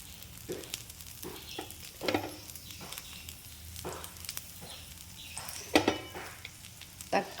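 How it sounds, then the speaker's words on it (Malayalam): Chopped tomato, onion and carrot frying in dosa batter on a hot griddle give a steady sizzle, broken by a few louder scraping and stirring bursts. "ഇതിൽ അരിഞ്ഞു വെച്ച പച്ചക്കറികൾ ഇട്ട് കൊടുക്കാം"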